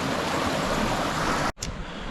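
Waterfall at Splitter Falls in the Grampians with heavy flow: a steady, loud broadband rush of falling water fills the clip, broken by a sudden momentary cut before the roar resumes.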